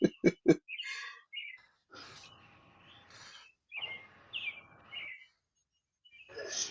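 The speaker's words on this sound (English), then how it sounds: "I hear birds chirping up in there." Birds chirp in short bursts of high tweets and calls, several separate phrases spread across the moment, fairly clear against a quiet background with a few sharp knocks at the start and no talking.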